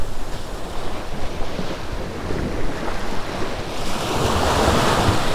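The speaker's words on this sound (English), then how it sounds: "We've got a little bit of a west wind today." A steady west wind buffets the microphone over continuous surf breaking on a beach, loud and close with a rising wash of waves near the end and no voices.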